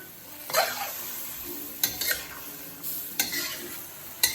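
Meat for lomo saltado sizzles and fries in a hot pan, a constant close hiss broken by several sharp stirring scrapes of a utensil against the pan.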